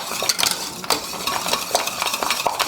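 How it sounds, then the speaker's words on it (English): Spoon stirring salted caramel in a pan, close scraping and light clinking strokes repeating in an irregular rhythm with a faint sizzle underneath. "Got to keep stirring."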